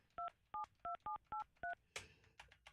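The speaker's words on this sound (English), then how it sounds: "trying Dennis back." A phone redials a caller on a live morning radio show: six crisp keypad tones beep at a steady, quick pace. Then a burst of line noise and clicks follows, with no talking.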